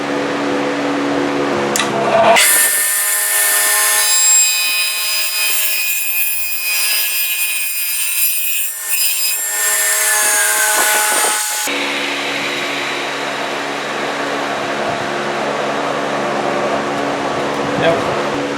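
Power saw cutting a 3/8-inch-deep dado into a wooden board while building a sorghum syrup pan, a loud steady whining cut running about nine seconds with a sharp start and stop, followed by quieter shop room noise.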